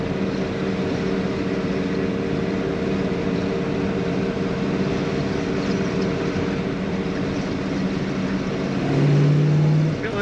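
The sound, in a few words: 1967 Pontiac GTO engine revving while driving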